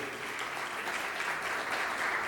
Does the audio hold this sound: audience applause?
yes